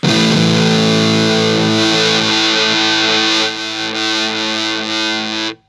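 Electric guitar through an Electro Harmonix Satisfaction Plus Fuzz pedal: a loud, thick, saturated fuzz chord sustaining for several seconds, with a slight re-articulation midway before cutting off abruptly.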